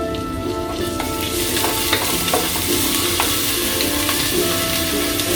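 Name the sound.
ginger, garlic and cardamom powder frying in a pan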